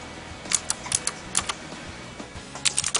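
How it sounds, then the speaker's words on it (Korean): Clicky blue-switch mechanical keyboard being typed on, sharp bright key clicks in short bursts with pauses between, close and alone. "청축이라고 불리는 클릭 방식에 대해 알아보겠습니다. 전형적인 기계식 키보드를 말하는데요."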